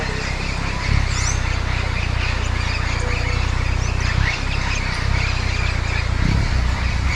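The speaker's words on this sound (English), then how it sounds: "Little bird sounds the whole area." Small tropical birds chirp and call across an area in Trinidad and Tobago, their thin, scattered notes sitting over a steady low rumble of background noise with no talking.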